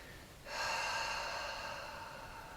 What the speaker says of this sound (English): So let all the breath out.